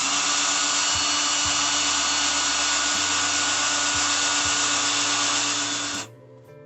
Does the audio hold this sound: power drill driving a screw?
yes